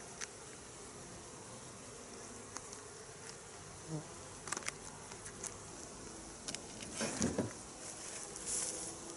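Honeybees buzzing during a hive inspection while honey frames are moved beside brood frames ahead of wintering, a steady low drone with a few closer buzzes passing and light handling knocks.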